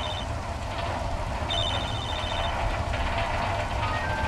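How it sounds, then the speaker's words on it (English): A phone rings in an ODST-style video game built in Unreal Engine 5, with short repeated electronic trills over a constant rumbling game ambience. "I hear a phone ringing"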